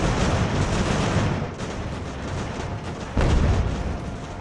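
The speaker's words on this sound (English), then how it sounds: "Mortars are still going strong." Mortar fire in the naval strategy game Ultimate Admiral: Age of Sail, a dense continuous rumble of distant booms and battle noise with a sharper heavy blast near the end.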